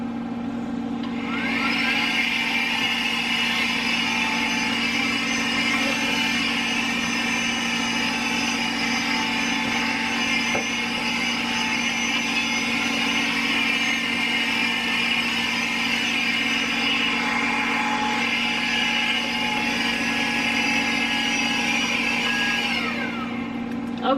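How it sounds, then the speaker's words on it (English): A small handheld vacuum cleaner runs continuously at close range, a steady high whirring drone that holds even from start to finish, without speech. "I'm going to use my little vacuum."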